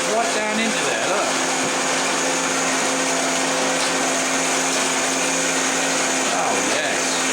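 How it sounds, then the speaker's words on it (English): A blender shaves ice for margaritas, grinding in a loud, steady whine close by that runs without pause, its pitch dipping briefly as the ice catches. "Look at that thing go, eh? Shaving all that ice right down into there, look."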